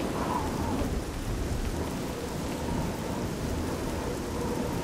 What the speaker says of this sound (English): It doesn't help that it's, like, always raining when I'm trying to look for something.